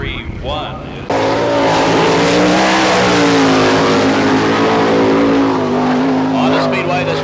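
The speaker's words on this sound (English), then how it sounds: "on the Speedway, the sprint car number 32, that's Tim Montgomery in the 32." A loud sprint car roars around the dirt speedway at Barberville, Florida, during an All Star Circuit of Champions race, its engine note climbing and holding steady, with commentary audible at the start and end.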